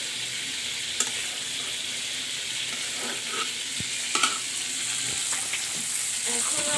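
Tengra fish sizzle steadily in a frying pan as they are browned, a soft continuous crackle broken by a few sharp clicks and scrapes of stirring.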